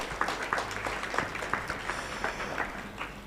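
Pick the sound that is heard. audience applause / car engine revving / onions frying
audience applause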